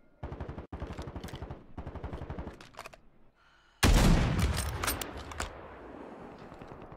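Automatic gunfire from Call of Duty Warzone Resurgence: a loud sustained burst of shots erupts partway through, following a stretch of rapid rhythmic mechanical rattling, with the burst then trailing off into a lingering tail.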